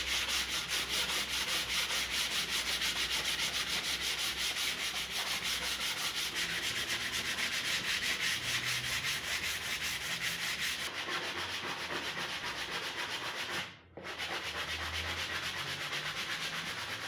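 Steady rhythmic sanding scrapes across a raised wooden door panel, a continuous rasping rub that continues with a brief pause near the end.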